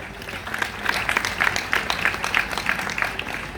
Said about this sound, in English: Please, with a resounding round of applause, celebrate with me one of our members